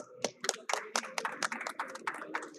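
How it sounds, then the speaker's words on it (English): Scattered, sharp hand claps from a conference hall audience, fairly close and uneven in rhythm, forming a brief, thin round of applause rather than a dense ovation. "can we have a huge round of applause?"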